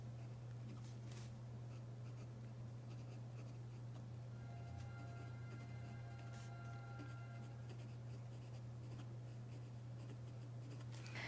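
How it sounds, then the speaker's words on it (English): A Pilot Parallel pen writes on Tomoe River paper, giving faint, close scratchy strokes in short bursts over a constant low electrical hum. "with the Pilot Parallel, the great thing is you can actually write on the edge and write smaller"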